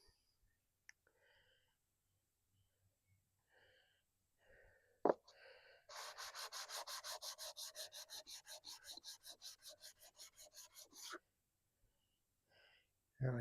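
Dry sandpaper rubs back and forth in a steady run of about thirty quick strokes, close by, during work on a Chrysler 15 hp outboard motor, with quiet gaps and a sharp knock before and after.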